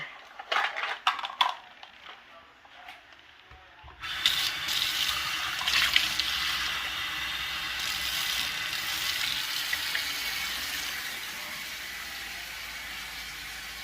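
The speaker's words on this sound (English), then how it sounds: "And now let me go in with the water here." Water pours steadily from a tap into a cooking pot for rice, a loud continuous rushing splash that starts after a few seconds of small clinks and handling noises, with no talking.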